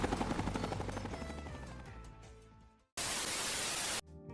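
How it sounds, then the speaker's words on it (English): Helicopter in the Commando 2 flash game: a dense, rumbling rotor drone with steady chopping pulses that fades, drops out briefly, then returns as a flat burst of loud hiss before cutting off. "Get to the chopper!"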